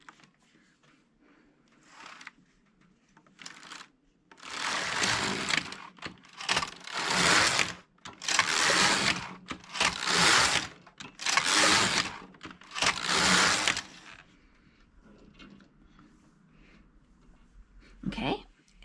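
A Passap E6000 knitting machine knits six rows, each pass a loud rasping carriage sweep of about a second, coming in a quick rhythmic run with short gaps, a voice speaking quietly before and after.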